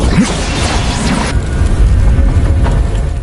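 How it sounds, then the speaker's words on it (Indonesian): A loud, deep explosive boom in an animated series (Ling Dong), with crackling debris and a sustained rumbling roar afterward, dense and continuous. "Di sini terlihat sebuah ledakan muncul"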